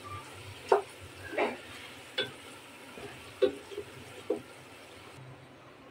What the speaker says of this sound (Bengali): তো মাংস কষাচ্ছি, এখনও মাংস ভালোভাবে কষানো হয়নি।